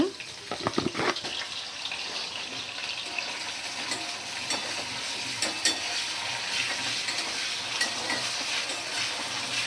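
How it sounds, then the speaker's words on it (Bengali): Chopped carrots and onions fry and sizzle in a pan, with stirring clatter early on and a steady hiss throughout. "তো একটু আমি গাজর আর পেঁয়াজটা ভাজা করে নিচ্ছি"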